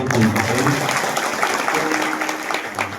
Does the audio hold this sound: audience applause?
yes